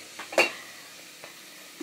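Onions sautéing in a pan while being cooked golden brown for sardines, with a faint steady sizzle and a few sharp clinks of a utensil against the pan.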